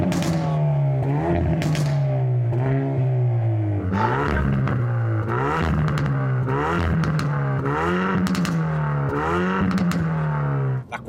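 Hyundai i30N Performance hot hatch on the move in N mode, engine note swelling and dropping through several revs while the exhaust burbles with bursts of crackling pops, near and loud without talk.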